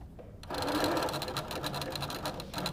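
Sewing machine stitching quilt pieces for a Broken Dish block, a steady rapid whir that starts after a brief quiet moment and runs on at moderate level with faint talk underneath.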